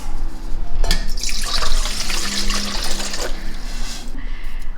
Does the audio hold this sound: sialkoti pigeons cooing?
no